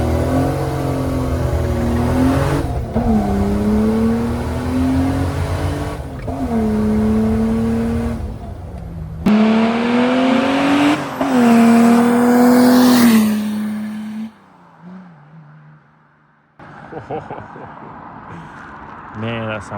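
A turbo diesel Mercedes 380SL accelerates hard up close, its engine roaring and climbing through loud revving pulls with short breaks between gears, then dropping to a quieter idle while people talk nearby.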